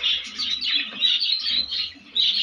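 Birds and chicks chirp inside breeding boxes, a dense, continuous chorus of high tweets and calls close by, with no talking.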